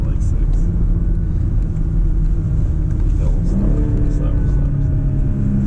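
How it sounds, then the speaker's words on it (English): A 2020 BMW X3 M40i accelerates hard at high speed, its engine a loud, steady low rumble with a rising tone partway through, under voices talking inside the cabin. "we're hitting pretty high speeds really quickly"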